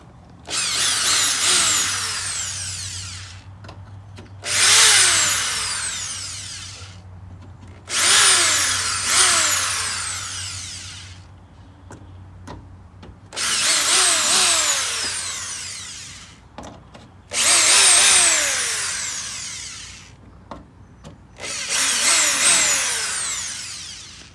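Power drill backing screws out of an aluminum RV dump hose holder: six rising whirring bursts spaced a few seconds apart, close and loud, with no talking.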